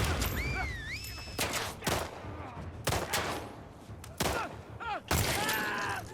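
Gunfire in the video game The Last of Us Part II: several loud, sharp shots burst out at irregular intervals over a busy game soundscape of whistling tones and scattered noises.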